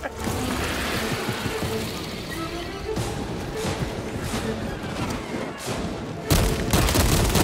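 Gunfire in Space Marine 2, a dense rumbling barrage of shots and booms that runs the whole time and swells louder near the end, with no talk over it.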